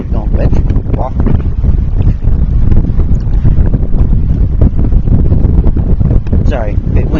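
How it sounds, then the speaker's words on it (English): Wind blasts into the microphone at Devil's Lake, a loud continuous buffeting rumble that runs throughout while a person talks over it. "Sorry, a bit windy here."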